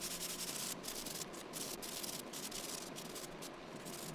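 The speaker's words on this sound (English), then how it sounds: "after I got it all sanded down" Sanding a handmade bread knife, a continuous close abrasive rubbing hiss with slight rhythmic variation from back-and-forth strokes, steady and moderately loud.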